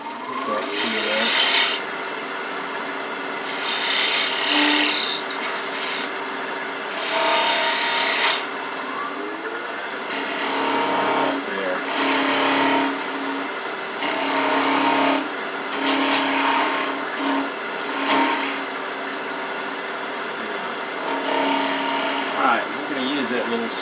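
A chess king piece being turned on a wood lathe, held in a small set of chuck jaws, with a skew chisel cutting in rough, scraping bursts over the steady hum of the spinning lathe, close and fairly loud throughout.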